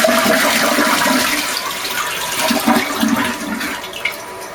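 A 1.6 gallon-per-flush toilet in a newly plumbed tiny house flushes loudly with a continuous rushing swirl of water, then the tank refills in a steady hiss, with no voices.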